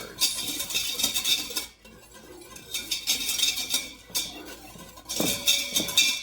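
A spoon stirs and blends a yogurt mixture in an Instant Pot, producing close metallic scraping and clinking in three rhythmic bursts separated by short pauses, with no talking.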